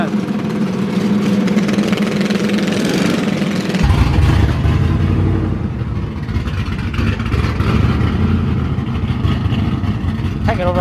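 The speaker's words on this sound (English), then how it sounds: "Can't get over how good that truck sounds" A cammed Chevrolet Silverado truck idles at a race track with a deep, loping rumble that swells louder midway and holds steady, with people talking nearby over it.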